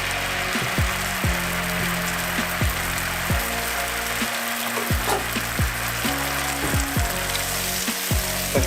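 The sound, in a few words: vegan butter sizzling in a frying pan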